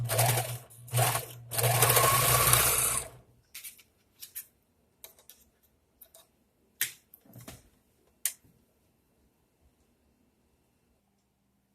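A sewing machine stitches baby clothes in a few short, fast bursts and then falls silent, followed by scattered clicks and handling taps, heard close with no talking.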